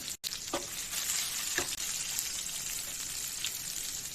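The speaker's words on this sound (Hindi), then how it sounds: "हम करेलों को साइड में से और उलट पलट करके सभी जगह से अच्छे से फ्राई कर लेंगे" Close sizzling of bitter gourds frying in hot oil over a medium flame, a steady crackling hiss with a couple of brief clinks as the pieces are turned.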